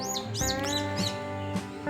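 An oriental magpie-robin (kacer) gives a quick run of bright, sweeping chirps and short whistles, several separate calls in two seconds, heard close over steady tonal background music.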